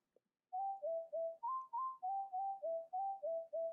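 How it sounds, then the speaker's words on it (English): Synthesized whistle notes from a K-pop song play a bright, staccato melody of about a dozen short evenly spaced tones, fairly quiet and alone. "I like the whatever's happening with these whistles"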